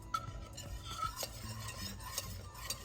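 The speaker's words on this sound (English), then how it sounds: "we're going to watch this carefully and stir it constantly, and it will thicken as the cornstarch is getting cooked" Custard pastry cream thickening in a pot is stirred constantly, with a spoon scraping and lightly clinking against the pot in quick, uneven strokes.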